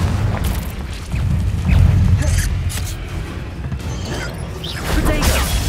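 Confringo spell blasts from the video game Hogwarts Legacy boom and crash in repeated low, heavy bursts amid continuous battle effects, with a voice calling out spells.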